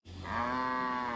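A cartoon robot cow lets out a single loud, drawn-out moo of about a second, close and clear with a rich harmonic tone and no speech over it.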